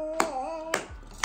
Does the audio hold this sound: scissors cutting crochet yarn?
no